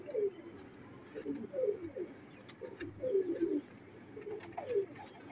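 A male pigeon coos in repeated low, throaty rolling phrases at close range, several bursts spaced through the clip, with faint background noise and a brief sharper bird sound.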